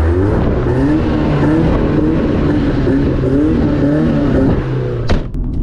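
A stock BMW E36 engine running loud and close, a steady droning rev with a sharp crack near the end, no voices.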